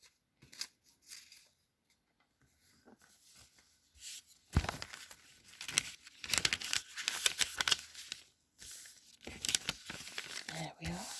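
Protective backing is peeled off a folded paper model, making crinkling, tearing rustles that come and go in bursts, louder in the second half, while a person talks quietly.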